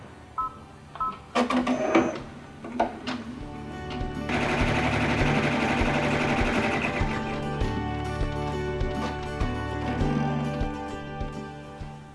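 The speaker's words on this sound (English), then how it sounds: "the next step is going to sew a placement line for the third fabric" Computerized sewing machine stitching a placement line for the third appliqué fabric on a quilted letter block, opening with clicks and short starts before a steady loud motor whir and rapid needle chatter run for several seconds.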